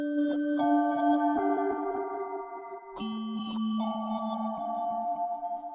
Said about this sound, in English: there's an echo going on. It's actually going in reverse, so that's what's giving it its dynamics and ambience